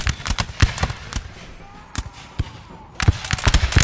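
Musket volleys from a Napoleonic-era battle in Napoleon Total War multiplayer: a rapid scatter of sharp cracks and pops, some close and loud, others distant, thinning briefly mid-way then bunching into a dense burst at the end.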